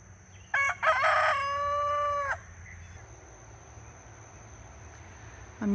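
A rooster crows once, loud and close, a drawn-out cock-a-doodle-doo, followed by quiet ambient background.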